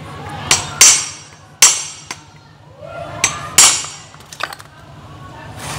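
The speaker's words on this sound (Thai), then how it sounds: "ถอนมาเลยใช้การตีส่งตรงนี้เราออกไปเลยนะ" Metal hammer blows knocking loose the magneto flywheel of a cheap Chinese-made wood-cutting saw machine during repair, several sharp, loud strikes at irregular intervals with quieter taps between, alone without talk.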